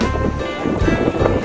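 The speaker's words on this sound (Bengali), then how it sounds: "সমুদ্র, ও কি হাওয়া, কি হাওয়া, প্রাণ জুড়িয়ে দিচ্ছে" Sea waves and strong gusting wind at Digha beach on the Bay of Bengal coast, a rough, blustery roar buffeting the microphone with churning surf beneath, loud and continuous.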